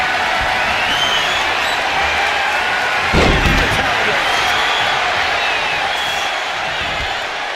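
Heavy body slam impact in the WWE 2K25 wrestling video game, a single deep thud near the middle over constant arena crowd roar and ongoing commentary.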